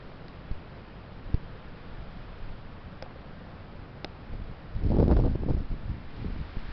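Heavy, damaging wind blowing outdoors, a steady broadband rush with a few sharp ticks, swelling into a louder gust near the end.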